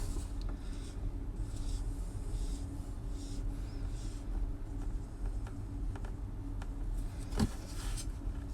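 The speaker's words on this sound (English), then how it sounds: "So I'm going to draw a number," Hand-drawn marks being made on a surface, a soft continuous rubbing and scratching with a few brief strokes, fairly quiet and alone with no talk.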